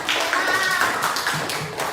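Primary schoolchildren in an Indonesian classroom clap together briefly, a soft, close patter of many small hands over about two seconds with faint room noise.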